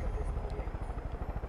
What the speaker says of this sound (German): Nicht, dass hier wieder ein Hubschrauber ankommt.